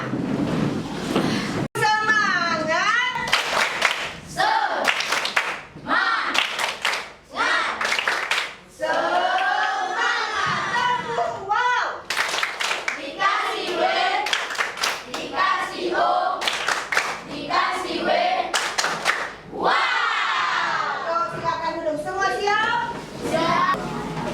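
A group of children in a classroom clap in a quick, rhythmic pattern while chanting together, loud and close, with an adult voice joining in throughout.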